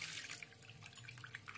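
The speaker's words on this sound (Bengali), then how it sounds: "ছানাটাকে ভালো করে নর্মাল জল দিয়ে ধুয়ে নিতে হবে" Tap water running over chhana, fresh cottage cheese, as it is washed for a Bengali payesh, a soft continuous splashing and trickle with small drips, fairly faint and close.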